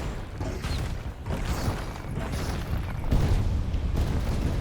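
A bomb explosion in the video game Skyforge, heavy low rumbling booms rolling in waves over several seconds amid dense game noise, with no talking.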